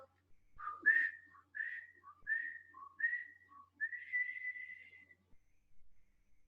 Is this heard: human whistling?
yes